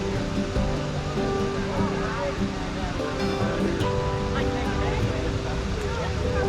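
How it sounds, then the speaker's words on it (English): Bridal Veil Falls in Spearfish Canyon, a waterfall giving a steady, loud broadband rush of falling water throughout, with people talking over it. "We are here at Bridal Veil Falls."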